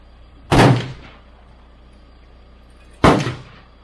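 Two sharp gunshots from a KelTec Sub2000 rifle fitted with a recoil buffer, roughly two and a half seconds apart, each loud and close with a short ringing tail against a quiet outdoor background.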